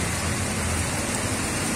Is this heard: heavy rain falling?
yes